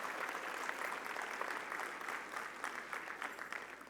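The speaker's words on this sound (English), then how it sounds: "Give yourself a round of applause." Sustained applause from a large audience at an awards gala for a national Hispanic chamber of commerce conference, steady dense clapping filling the room at moderate distance for the whole stretch.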